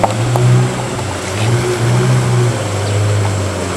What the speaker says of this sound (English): Just watch the speedboat that's speeding by.